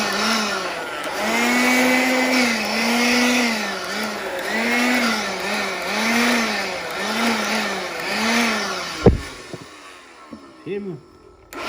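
Small Azeto battery blower drying a rifle bolt, a loud whining motor with a wavering pitch that rises and falls repeatedly, then cuts out near the end leaving brief quieter bursts.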